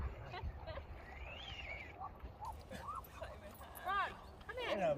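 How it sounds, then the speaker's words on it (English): Cartoonish dogs bark and yip in the Free Fire video game, several short bursts near the end over a busy game background while players talk throughout. "All the dogs are out to play."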